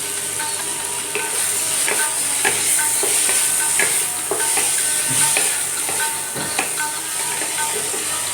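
A slit green chilli and cabbage leaves frying in a pan for oats khichuri, a loud continuous sizzle with a spoon stirring and tapping at an uneven rhythm, close up, no talking.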